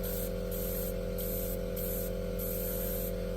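Airbrush or spray paint applied in light coats to an F4U model aircraft, heard as a series of short hissing bursts over a constant compressor hum, close by.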